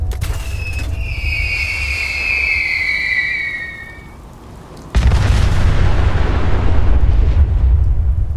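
Big Boy mini-nuke launcher in the Fallout game: high whistling tones over a low rumble, then a sudden loud blast partway through that rolls into a sustained, roaring boom until the end.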